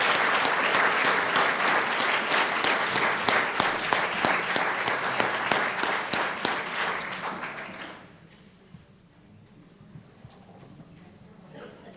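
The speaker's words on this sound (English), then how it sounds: "give the Sharks another big round of applause" Loud, sustained applause from an audience at a school board meeting fills the first eight seconds, then drops off abruptly, leaving faint scattered claps and room noise.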